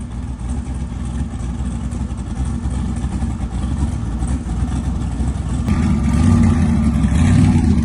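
A dually Mustang does a burnout, its engine roaring loud and close with a steady low growl that swells and revs harder in the final seconds.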